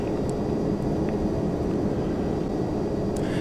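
Aircraft engines at takeoff power in the Prepar3D flight simulator: a steady, loud, unbroken drone and roar that holds even throughout, with no speech.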